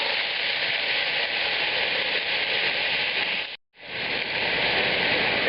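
Passata hits a hot pan for Greek lamb soup and fries in a loud, continuous broadband sizzle and splatter that briefly cuts out near the end, then resumes just as strongly.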